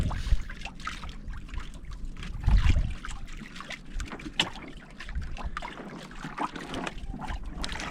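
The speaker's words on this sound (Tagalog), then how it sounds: "dito naman tayo nakasakay sa bangka ni Madiskarte Mag-asawa." A small wooden outrigger boat (bangka) knocks and splashes on water, with gentle lapping and occasional thumps against the hull, a soft steady wash underneath.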